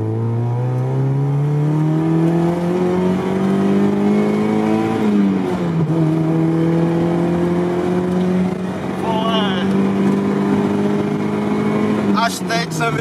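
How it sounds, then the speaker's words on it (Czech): Mazda MX-5 engine revving hard as it pulls through second and third gear on a downhill road, pitch climbing steadily, dipping at the upshift, then rising again, loud and continuous from inside the car. "jak dlouho to táhne dvojku a trojku a to jedeme teďka z kopce"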